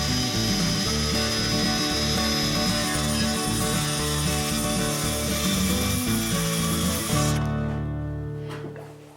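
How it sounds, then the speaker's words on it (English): Wooden backboard for mounting PVC pipe being cut with a power saw, a loud steady buzzing drone with rhythmic cutting strokes running close up for about seven seconds, then winding down and fading out. "The next thing that we're going to do is go ahead and start cutting our backboard"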